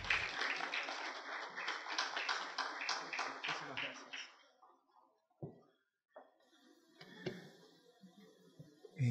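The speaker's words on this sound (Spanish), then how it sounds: "para quien pedimos un fuerte aplauso" Applause from a university auditorium audience greets a guest speaker at a customs lecture, with dense clapping for about four seconds before it fades into scattered claps and a few voices.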